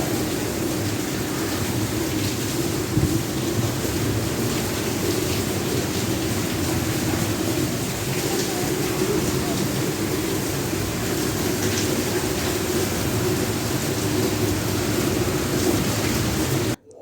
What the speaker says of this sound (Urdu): اتنی تیز طوفانی بارش تھی